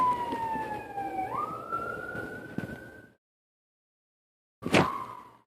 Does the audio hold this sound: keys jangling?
no